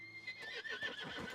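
Horse in the video game Red Dead Redemption 2 letting out a loud, high, quavering whinny that trails off into snorting, with hooves clip-clopping underneath, fairly quiet overall.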